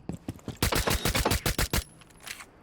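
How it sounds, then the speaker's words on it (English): Rapid video game gunfire from spam shooting a pistol, a fast burst of about ten sharp, loud shots in quick succession, preceded by a few lighter clicks and followed by a brief faint tail. "I'll try spam shooting and see what it's like."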